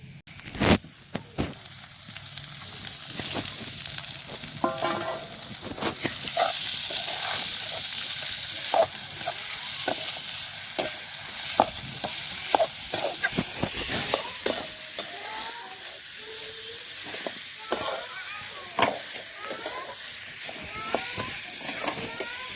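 Banana flowers fry and get stirred in a pan in a home kitchen, giving a steady hiss and sizzle with scattered clinks and scrapes of a spoon against the pan throughout.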